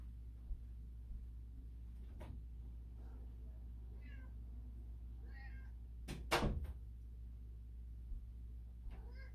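Indoors, a cat at a door gives a few faint meows and scratches or knocks against it, with a sharper double thump near the end, all over a steady low room hum.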